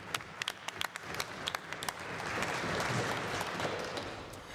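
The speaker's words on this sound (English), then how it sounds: "Please give her a round of applause." Applause in a legislative assembly chamber, starting with a few scattered claps that swell into a steady, moderately loud wash of clapping from the members.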